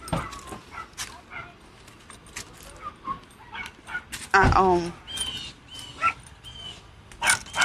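Several dogs bark and whimper in sharp bursts close by, mixed with jangling and someone talking over them.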